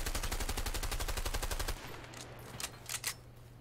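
Rapid automatic gunfire in the video game A Way Out, a fast loud burst of evenly spaced shots followed by a few separate single shots.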